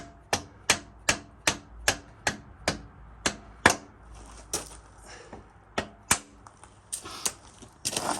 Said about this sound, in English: we're just going to pop the rear spindle out